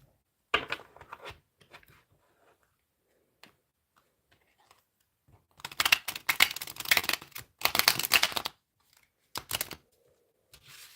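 Tarot cards are shuffled near the microphone in crisp bursts of rapid riffling and slapping, with quiet gaps and a few isolated taps between the louder flurries.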